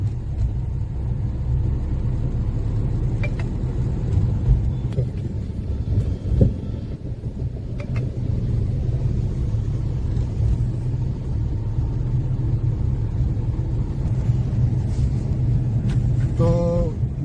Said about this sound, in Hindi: अब कितना स्मूथ ट्रैफिक चल रहा है यहाँ पे